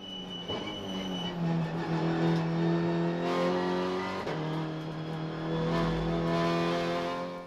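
Touring race cars in a TCR race at TT Circuit Assen, with one car overtaking a Peugeot; steady engine drone of several cars at a distance, pitch shifting as they pass, no voices.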